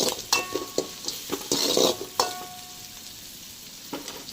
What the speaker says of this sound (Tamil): 1 கப் வெங்காயம் சேர்த்துக்கலாம். நல்லா கலந்து விட்டுக்கோங்க.